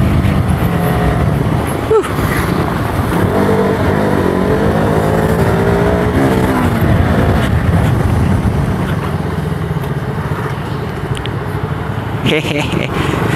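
Motorcycle engine revving as the throttle is twisted, rising and falling in pitch for a few seconds, mixed with loud ongoing talk.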